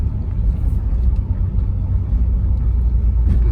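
A 1987 Pontiac Fiero GT that sat unused for fifteen years idles nearby, its engine making a loud, steady low rumble throughout with no talking.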